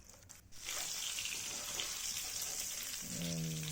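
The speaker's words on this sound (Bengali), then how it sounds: "আর ডিমটা এখানে ভেজে তুলে রাখবো আগে" Steady, close sizzling and crackling of an egg frying in hot oil, with a low hum appearing near the end.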